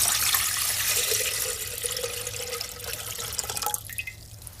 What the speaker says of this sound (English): Partly fill the container with water.